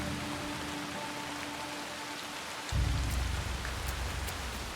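Steady rain patters in the Assassin's Creed Shadows video game, a dense hiss of drops that swells louder partway through and continues evenly, with no talk.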